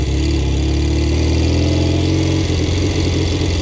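A motorcycle engine runs steadily close by, a loud, continuous mid-pitched drone with a slight shift in tone near the end, heard alone.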